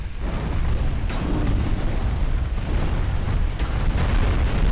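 Heavy, rumbling booms of warship guns roll through a naval battle in a war strategy game, deep and sustained like layered artillery blasts under a constant low roar, with no voices.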